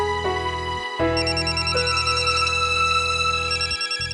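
A phone ringtone plays for an incoming call, a bright electronic melody with repeating phrases over a steady low tone, briefly cutting out twice, loud and close with no talking.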